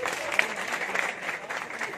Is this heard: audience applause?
yes